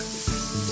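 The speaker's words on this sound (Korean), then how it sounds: "지글지글 찬란하게 익어가는 고기에 캠핑 감성도 한껏 올라가는데요" Pork belly sizzles on a charcoal grill at a countryside campsite, a close, continuous hiss and crackle with a brief pop of fat near the start.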